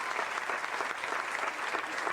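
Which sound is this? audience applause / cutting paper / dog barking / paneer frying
audience applause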